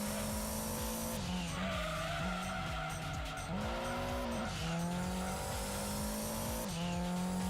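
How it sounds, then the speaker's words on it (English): Homegrown racing car skidding, with tires squealing in a string of wavering screeches over a constant loud engine drone, one long continuous run of sliding and revving. "it's just insane what you can do with a homegrown racing car"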